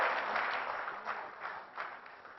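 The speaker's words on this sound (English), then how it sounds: "can we have a big round of applause for all the organizers?" An audience at a DomainX 2014 conference session applauds the organizers, a soft, fairly distant patter of many hands that swells in a few small waves and gradually tapers off.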